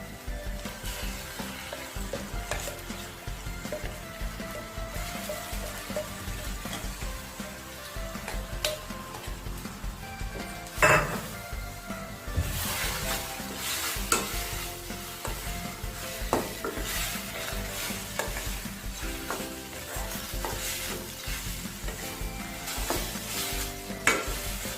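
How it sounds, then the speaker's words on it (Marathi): Marinated chicken liver fries in a pan with tomatoes, giving a continuous loud sizzle with repeated stirring and scraping strokes throughout, and one sharper clank partway through. "आता ही मॅरिनेट केलेली कलेजी टाकायची।"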